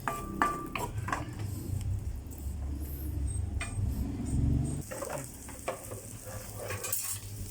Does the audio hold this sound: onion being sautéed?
yes